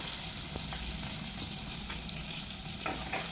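Chopped onions hit hot oil in a frying pan and crackle into a dense, steady sizzle that carries on unbroken, close and fairly loud, with a few stirring scrapes.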